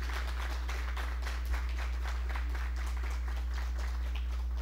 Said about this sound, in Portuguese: Eu pediria uma salva de palmas para o Lamari.